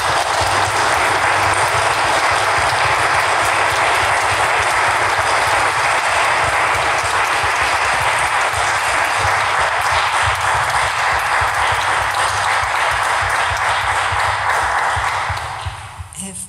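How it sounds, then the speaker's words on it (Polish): Long, loud applause from an audience after a school nativity play, continuous clapping holding steady for about fifteen seconds before tapering off, with a low hum underneath. "więc wielkie brawa dla nich wszystkich"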